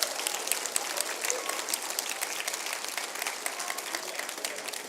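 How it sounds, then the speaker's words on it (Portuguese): A church congregation claps and applauds at an evening worship service, a dense, steady wash of clapping from a crowd filling the whole moment. "Louve ao Senhor, aplauda ao Senhor, exalte ao Senhor essa noite."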